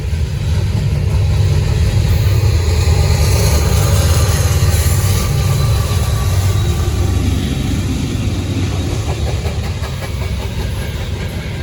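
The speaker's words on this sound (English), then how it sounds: "They're running all 4 locomotives today." Norfolk Southern freight train running all four locomotives, a loud, steady close-up rumble of diesel engines and rolling cars that holds for the whole stretch and eases slightly near the end.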